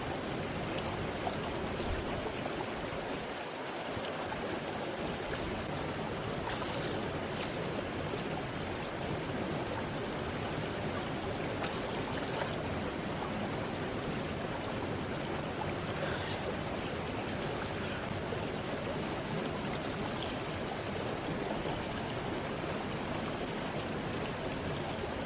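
Water in a rainforest swimming hole in the Daintree makes a constant, even rushing wash that fills the whole stretch. A thin high tone runs above it, and no voices are heard.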